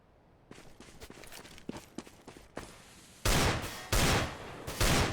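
Gunfire in a team shooter video game match, with light pattering footsteps and scattered shots at first, then three loud, dense bursts of fire in quick succession, close and harsh, with no talk.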